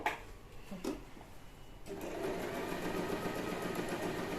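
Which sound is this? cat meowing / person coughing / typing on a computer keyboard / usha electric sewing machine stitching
usha electric sewing machine stitching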